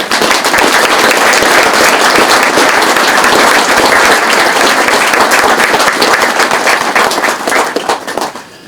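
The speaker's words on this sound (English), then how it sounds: "I think they deserve another round of applause." Loud, sustained applause from a large crowd, dense clapping throughout that tapers off slightly at the end.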